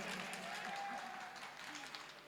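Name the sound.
mushaira audience applause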